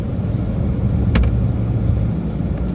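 A car drives through residential neighborhood streets, giving a steady, close low rumble of engine and road noise with no talking.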